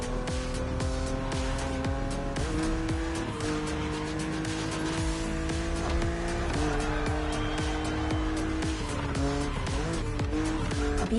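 A BMW Z roadster races against an aggressive opponent in The Crew Motorfest, its engine roaring steadily and loudly throughout with bursts of tire squeal and skidding.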